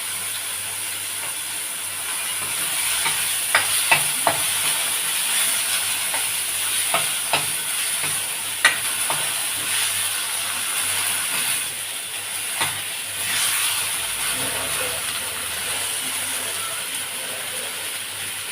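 Fermented bamboo shoot and raw green chilies sizzle and hiss in a pan for an Assamese sour fish curry, a steady frying hiss broken by occasional stirring clinks.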